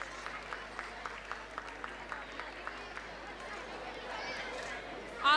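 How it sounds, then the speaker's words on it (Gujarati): Audience at a community get-together ceremony clapping with a steady, distant patter of claps that swells briefly near the end, under a soft hum of crowd murmur. "જોરદાર તાળી થી પાંગે સહભાગી થઈ જાય."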